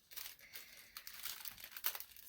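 Someone opens a package of pins and tea sent from England, producing close, crinkly plastic and paper rustling in irregular bursts that swell and fade, fairly quiet, with no voices.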